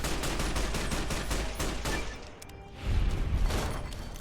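Dense, continuous gunfire from the video game Fallout: New Vegas, rapid shots blending into a sustained fusillade with a brief lull before heavy firing resumes.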